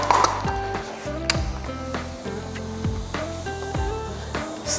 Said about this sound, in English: I just will spray slip solution.